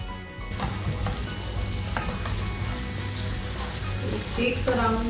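Almonds roast in a pan over a moderate flame, giving a steady close frying sizzle with soft scraping of stirring running throughout, brief clinks near the end.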